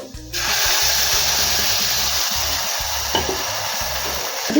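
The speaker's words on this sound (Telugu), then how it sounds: "ఇప్పుడు మిక్సీ వేసుకున్న టమోటా చింతపండు జ్యూస్ యాడ్ చేసుకుందాం" A loud hiss and sizzle erupt as blended tomato and tamarind juice hits a hot pan, continuing steadily with low rhythmic stirring or bubbling underneath.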